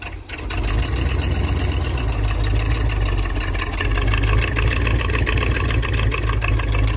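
A 1983 GMC truck engine running steadily after being cranked back up, with a continuous loud low rumble at a constant idle, no talking over it.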